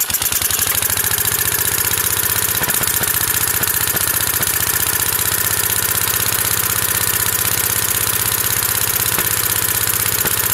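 A Briggs & Stratton model Y engine runs loud and close, with a rapid, even firing rhythm that continues steadily for the whole stretch, with a few faint clicks and no talk.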